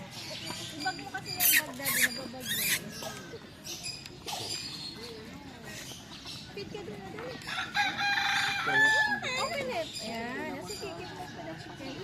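A Rhode Island Red chicken at a campground animal area clucks and crows amid other fowl, the calls mid-distance and repeated, with people talking over them throughout.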